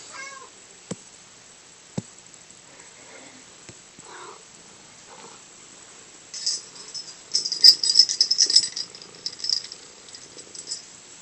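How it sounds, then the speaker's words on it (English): Pet cat meows a few times faintly in a quiet room, then purrs and mews more loudly in close, rumbling bursts near the end, with no talking. "It's my kitty there if you hear him in the background."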